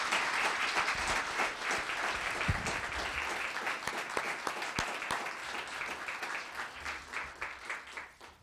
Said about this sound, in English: Another round of applause for Robertson Publishing.